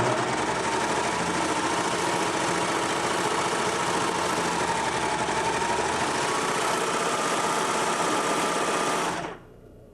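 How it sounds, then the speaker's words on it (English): A serger running a 4-thread overcast seam on knit fabric, a loud, fast, continuous mechanical whirring with steady stitching vibration that runs for about nine seconds before stopping abruptly. "we have our machine set up for a 4-thread overcast, and we're just going to go ahead and run this seam right through."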